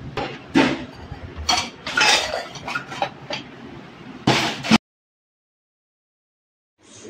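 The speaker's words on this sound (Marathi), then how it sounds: "माझे बाकीचे भांडे असते तोपर्यंत मी भांडे काढून घेते।" Stacked household pots and metal utensils being taken out during cleaning, a series of close clanks and clinks that stop abruptly into silence before a faint knock at the end.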